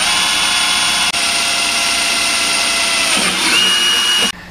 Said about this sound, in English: I'm going to use my self-centering bit to drill the initial hole.